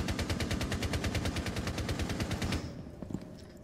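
Rapid automatic gunfire from Rainbow Six Siege rattles in a fast, steady burst of about two dozen shots, then cuts off, leaving a few faint distant clicks.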